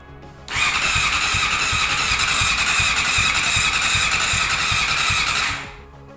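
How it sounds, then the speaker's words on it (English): A 1998 Honda CBR600 motorcycle cranks without catching, giving a loud, steady whining starter motor with a rhythmic chug beneath it for about five seconds before it cuts off. "obviously it's just not going to start right now"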